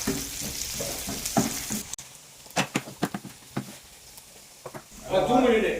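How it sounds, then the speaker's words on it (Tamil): Ingredients for a fish curry, including curry leaves, sauté in a pan, with a bubbling sizzle and repeated scraping stirs, while a person talks over it early and late in the clip. "நல்லா வதக்கிட்டுக்கோங்க"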